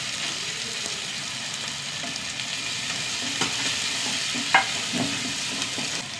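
Chopped onion fries in a pan with ginger, garlic and curry leaves, giving a steady, close sizzle with occasional clinks and scrapes of stirring throughout.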